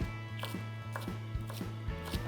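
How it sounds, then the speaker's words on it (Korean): A knife slicing green onion lengthwise on a cutting board gives a quiet, steady series of crisp chopping strokes, about eight in quick rhythm, with no talk over them. "길이로 예쁘게 그 파채 썰듯이 너무 얇게는 썰지 마시고"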